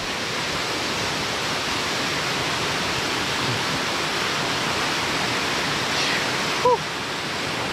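A waterfall at a farm resort in Santa Maria, Laguna roars as a dense, steady rush of falling water, loud and close, with a brief faint whistle-like sound near the end.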